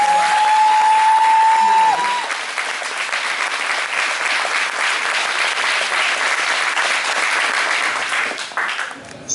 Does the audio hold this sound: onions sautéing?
no